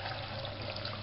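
Water poured into a blender for a watermelon green smoothie, a steady close trickling and splashing stream running continuously without a break.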